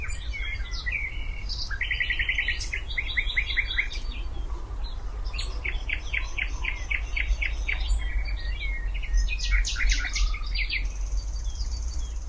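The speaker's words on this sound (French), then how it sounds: "le pinson du Nord" Brambling song recorded from a hide near Dimitrovgrad, Bulgaria, a mix of bright chirps and quick trilled phrases repeating throughout, over a constant low background hum.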